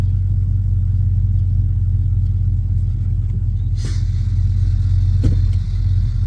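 An LS-swapped 1979 Camaro with a 4L60 transmission runs at a steady idle. Its deep, smooth rumble is loud and close and holds constant throughout, with only a couple of faint clicks on top.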